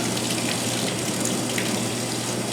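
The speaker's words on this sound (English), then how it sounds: "I can take this downstairs and go right into cold water in the sink." Cold tap water running steadily into a kitchen sink, a loud, close, unbroken gushing splash that holds at an even level from start to finish with no one talking.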